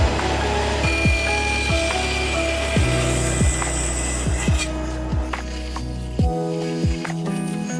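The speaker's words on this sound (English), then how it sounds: "I'm just gonna kerf these short sticks" Handsaw kerfing the tenon ends of short wooden chair sticks at the bench, a series of short, quick rasping strokes close by, roughly a dozen cuts in bursts over a steady low background hum, no voices.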